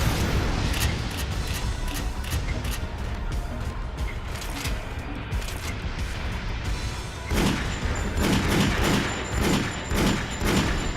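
Grenade blast and ongoing combat in Resident Evil The Umbrella Chronicles, dense continuous roar of explosions and gunfire with heavy rumbling booms and a burst of sharper impacts near the end.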